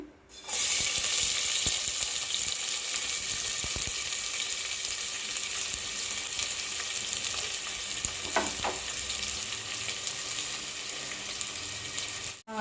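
Thinly sliced medium onions hiss and crackle as they fry in hot oil for a bagara rice base, a loud steady sizzle starting abruptly and holding evenly, with a faint scrape of stirring partway through.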